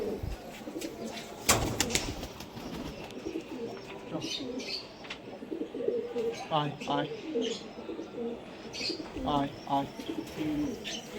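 Pigeons, including closed-tail kamagar males, coo in a loft, repeated throaty rolling calls near and fairly clear, with someone talking intermittently over them and a few sharp knocks.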